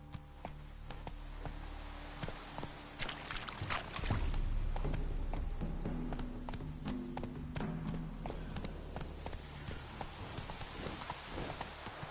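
Hooves clip-clop in a steady galloping rhythm as a horse runs through The Witcher 3 on PS4, continuous and fairly close, with light rain-like patter in the background.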